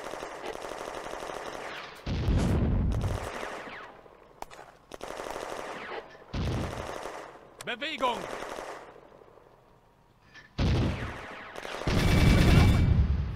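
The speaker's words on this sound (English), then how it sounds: "Soviet mortars appear to be firing from west of the spur." Rapid machine-gun bursts and heavy booms of Soviet mortar fire on the Eastern Front in the Firefight war game, 1941, loud and repeated in clusters, with a voice shouting commands over the battle.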